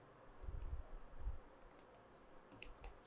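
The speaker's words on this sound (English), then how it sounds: "type in your domain name" Soft clicks of typing a domain name on a computer keyboard, a few quiet bursts of keystrokes at close range with no talking.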